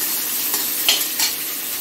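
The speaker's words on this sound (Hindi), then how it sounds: "ये देखिए प्याज अच्छे से भुन चुकी है" Onions frying in oil in a pan for rava upma, stirred with a spatula: a dense, continuous close sizzle with a couple of soft scraping strokes breaking through.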